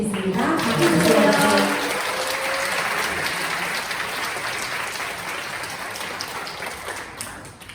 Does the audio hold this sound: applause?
yes